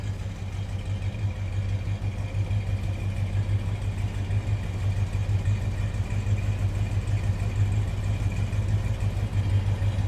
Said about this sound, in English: Oh, a rumble coming out of that Barracuda.